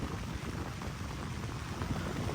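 Steady rain falls across a banana plantation, a continuous broadband hiss of drops spread evenly throughout, moderately faint with no voices.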